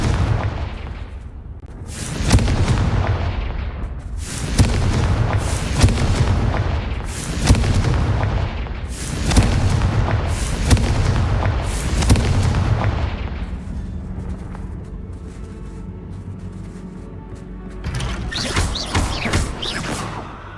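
Confringo explosion spell cast in the video game Hogwarts Legacy: six loud, heavy booms at a steady pace of about one every two and a half seconds, each fading into rumble, followed by quieter crackling debris.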